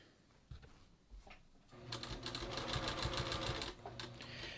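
A sewing machine runs a steady rapid stitching burst as a knit strip is sewn onto a cowl neckline, after a few faint handling clicks, loud and close for most of the stretch.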